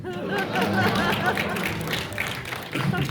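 Talk-show studio audience applauding and murmuring, a dense continuous wash of clapping with crowd chatter mixed in, steady and fairly loud throughout, swelling again near the end.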